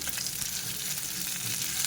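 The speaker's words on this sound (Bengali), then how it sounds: "আমি আবার এদিকটা অল্প করে ভেজে নিয়ে আবার এদিকটা উল্টে দিচ্ছি" Semolina-coated pomfret fish fries in shallow oil in a pan, a dense, close, continuous crackling sizzle with no pauses.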